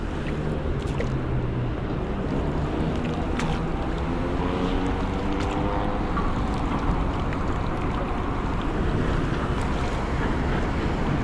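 A fishing boat out on the open sea, with steady wind and wave wash rushing continuously throughout, loud and unbroken, with no talking.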